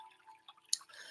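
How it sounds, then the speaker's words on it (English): Water drips in the background, a few faint, scattered drops with one sharper, brighter drip partway through, set against near silence. "You can hear the water in the background."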